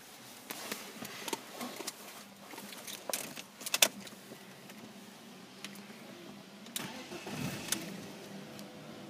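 A blue petrol BMW 316i with a manual gearbox and high mileage starts up from inside the cabin: a brief cranking burst, then a steady low idle with a slight rattle, alongside faint key and interior clicks. No one speaks.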